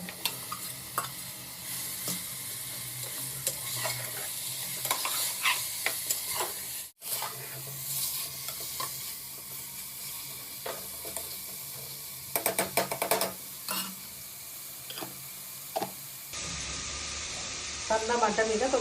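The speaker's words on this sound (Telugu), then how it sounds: "ఇప్పుడు మటన్ వేసుకొని కలుపుకోవాలి." Mutton pieces are stirred into hot oil with whole spices such as cinnamon and cloves for a Telangana-style curry. A steady sizzle and hiss runs under repeated spoon scrapes and clatter, and a voice is heard briefly.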